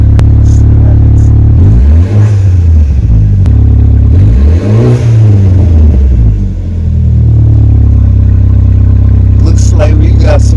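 A BMW F30 328i with the N26 engine and its mid-mount exhaust cutout fully open revs loudly and close by, rising and falling in several swells, with brief voices near the end.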